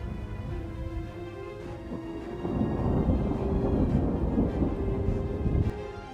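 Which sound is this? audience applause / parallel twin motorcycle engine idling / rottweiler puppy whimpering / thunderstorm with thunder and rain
thunderstorm with thunder and rain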